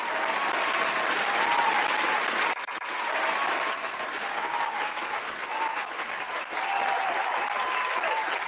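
Audience at a live show applauding, a sustained even patter of many hands clapping, moderately loud, with a brief dip midway before resuming.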